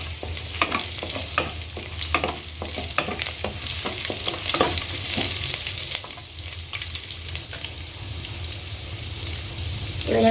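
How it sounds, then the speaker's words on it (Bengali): Cinnamon, green chili, ginger and garlic fry in a pan, making a continuous close sizzle broken by repeated scraping stir strokes, with a wetter hiss toward the end. "दारुचिनी काँचा लंका कुचि आदा रसुन कुचि दिए देब। दिए भालो करे नेड़े नेब।"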